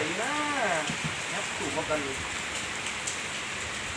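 Dense, even patter of rain falls throughout, with someone speaking briefly over it at the start.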